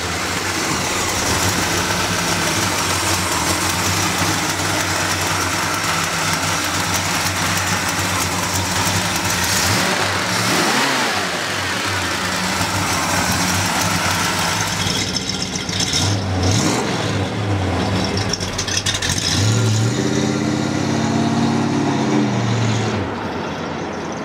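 A 1968 Ford Torino GT S Code V8 running close by, a loud steady idle with a few revs partway through and near the end.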